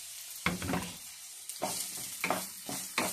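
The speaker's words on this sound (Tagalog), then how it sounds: "Gigisahin na natin yung ating ingredients." Garlic, ginger, bird's eye chilies and green chilies sauté in hot oil for tofu sisig: a soft sizzle broken by several crisp bursts as the pan is stirred, close and fairly quiet, with no talking.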